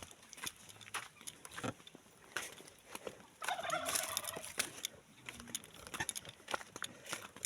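Flock of turkeys gobbling outdoors on a hillside, bursts of calls rising midway among scattered clicks and rustles, moderately distant and fairly faint.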